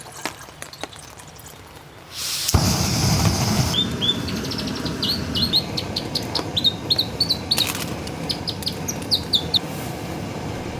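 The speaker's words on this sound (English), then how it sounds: "That's a robin." A robin sings in the wilderness during rain, its bright repeated whistled phrases standing out clearly and close over a steady wash of rainfall.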